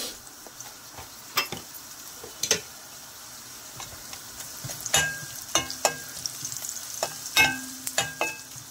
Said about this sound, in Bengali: পেঁয়াজ, রসুন, কাঁচামরিচ, 5 ফোড়ন সব ভাজা হয়ে গেছে। এখন আমি এখানে সামান্য একটু হলুদ দিয়ে দেব